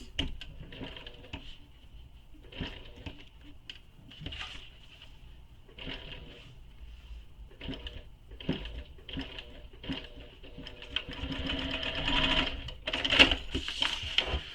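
A sewing machine stitches curved seams in short, rapid runs of whirring needle strokes separated by brief pauses, close and clear, with a longer, faster burst near the end.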